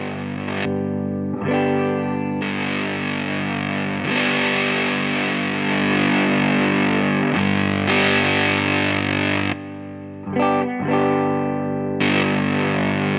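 Sustained electric guitar chords through a Big Muff Pi fuzz pedal, thick and loud, with brief gaps between strummed chords.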